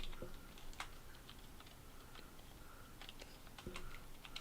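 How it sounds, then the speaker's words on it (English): Fast typing on a computer keyboard, scattered clicky keystrokes and a few sharper taps over a steady background hiss, fairly quiet and close. "I love that Pharmacy Greek actually showed up while you were typing"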